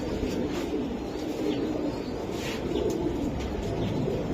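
Racing pigeons, including a strong hen, coo in a low, continuous murmur throughout, close and steady with no talk over it.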